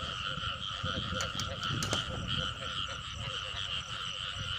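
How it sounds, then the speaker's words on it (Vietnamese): Frogs croak in a flooded rice field, a continuous chorus of loud, nearby, trilling calls with a few sharper clicks mixed in. "Con còn nó kêu phía trước mình."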